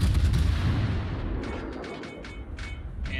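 Battleship naval gunfire in the World of Warships video game, a dense continuous roar of heavy cannon booms and rumbling explosions, loud and close, with sharper bursts toward the end and no talking.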